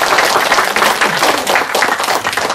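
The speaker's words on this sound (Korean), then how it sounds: "큰 박수로 한번 우리 인정하도록 하겠습니다" A lecture-hall audience at a New Year healing talk claps loudly together, a full, close burst of many hands that swells and pulses unevenly, with no voices over it.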